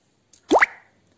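Olive oil splashes into a bowl of pizza dough mixture with salt and sugar, making a single short, wet plop with a quick rising liquid tone, close and clear against an otherwise quiet kitchen.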